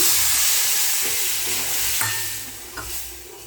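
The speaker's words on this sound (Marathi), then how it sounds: "त्यामध्ये आता दूध टाकते मी" Milk poured into roasted semolina for sheera hisses and sizzles loudly up close, the bright steamy crackle easing slightly over a few seconds with a couple of light stirring knocks.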